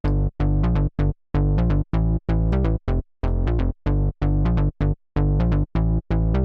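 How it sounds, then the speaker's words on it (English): Synth bass line plays alone in short, punchy, staccato notes with clean gaps between them, a loud and steady rhythmic pattern with no voices. "I've got a synth bass line and it sounds like this"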